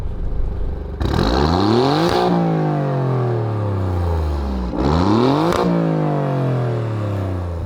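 An Alfa Romeo Giulia Quadrifoglio engine revs loudly twice, each time sweeping up sharply, peaking, then falling back in a smooth descending drone, with steady engine noise between the blips.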